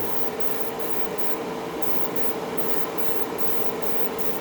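Tamiya LP-51 Pure Orange spray paint hisses from a close aerosol can in a continuous steady stream, with faint regular pulses as light mist coats go on.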